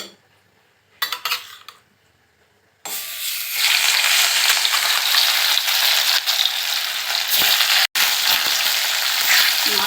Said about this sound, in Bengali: কড়াইয়ে তেল দিয়ে দিলাম কিছুটা এগুলো এবার ভেজে নেব মাছগুলো